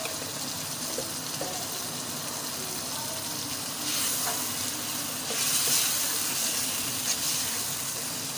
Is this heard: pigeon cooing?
no